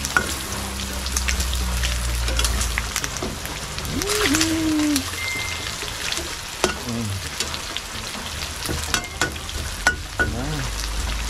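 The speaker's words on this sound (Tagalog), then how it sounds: "Direct na natin dito ang sibuyas tsaka bawang." Onion and garlic fry in a hot pan with a steady, close sizzle that runs throughout, and brief stirring scrapes come through. A few short voice fragments sound over the frying.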